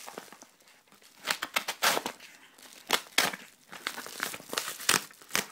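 A padded envelope lined with bubble wrap is opened up close, giving a run of loud crinkling, rustling and tearing bursts in an irregular rhythm with short pauses between them.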